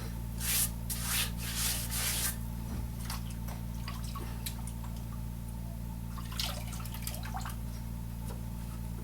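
A plastic ankle-foot orthosis being wiped clean of its parting-agent film: close, wet rubbing strokes, brisk at first, then slower intermittent scrubbing against a steady background hum.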